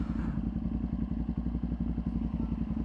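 A tuned Ducati Panigale V2 motorcycle runs on the street with a loud, close, rapidly pulsing exhaust note, steady throbbing with crackly pops and no talking.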